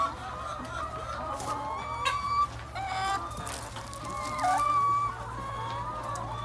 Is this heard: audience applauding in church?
no